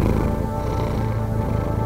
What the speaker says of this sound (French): Ça, c'est un ronronnement normal.